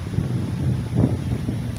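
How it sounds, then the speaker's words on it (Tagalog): Steady wind buffeting a microphone outdoors in Rizal Park, Manila, a low rumbling roar that swells and gusts throughout, with no voices. "Mahangin kasi, sobrang hangin yun, oh."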